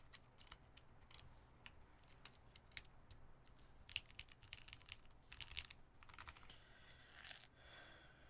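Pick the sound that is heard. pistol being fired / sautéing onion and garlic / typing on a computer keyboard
typing on a computer keyboard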